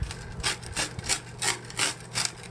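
A knife cuts through a freshly baked homemade pizza from a homemade pizza oven, making a crisp, rhythmic crunching and scraping of about six strokes, close and fairly loud, with no talk.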